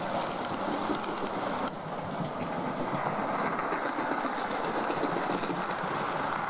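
DJH A1 model railway locomotive, roller bearing fitted, pulls a train of modified Bytham Mark 1 coaches away on a layout, giving a steady, continuous mechanical whirring and rolling rattle that holds at an even level with no talk.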